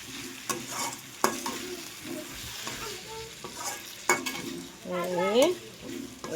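Potato fry with chili powder frying in a pan while being stirred: repeated scraping strokes of a spatula over a soft sizzle, close and fairly quiet, with a short squeaky scrape near the end.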